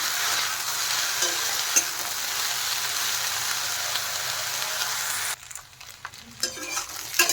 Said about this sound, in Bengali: লতি দেওয়ার পর আর একটু নেড়ে চেড়ে ভালোভাবে মিশিয়ে দেবো আমি।